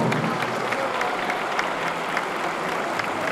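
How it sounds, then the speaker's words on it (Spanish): Audience applause at a Spanish national indoor recurve archery championship medal ceremony in Ibiza, a steady dense clatter of many hands clapping throughout, fairly close and even in loudness. "el aplauso para el medallista de oro, para Miguel Ángel Pifarré Trujillo."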